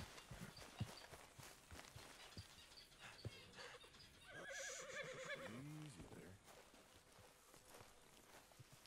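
Horse in Red Dead Redemption 2 gives a clear whinny midway, with faint hoof clip-clop and game ambience around it, fairly quiet overall.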